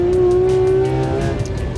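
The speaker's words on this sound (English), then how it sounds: "This GT3 RS is one of the fastest street cars ever made." Porsche 911 GT3 RS race car driven hard on the Barber Motorsports Park circuit, a loud sustained engine tone close up with steady high revs and tire noise, no talking.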